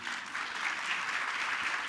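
An audience applauds at a fireside talk on Pakistani drama, a steady, even wash of clapping that holds for the whole two seconds with no voices over it.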